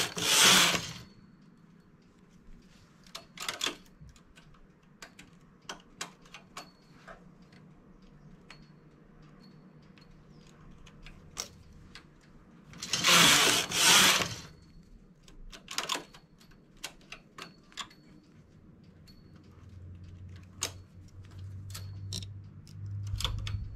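Knitting machine needles being lowered in groups of five: sparse, sharp mechanical clicks and ticks at irregular intervals, with a few louder bursts of clatter and a low hum near the end.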